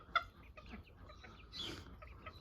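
Ornamental chickens and a rooster in a garden give off soft clucks and brief squawks, with one sharp, louder call near the start over a rustling outdoor background.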